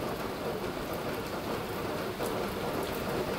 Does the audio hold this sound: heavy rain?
yes